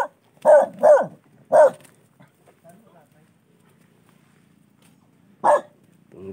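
A dog barks at a house damaged by a typhoon: three quick, fairly loud barks come close together, then a single bark follows after a quiet stretch.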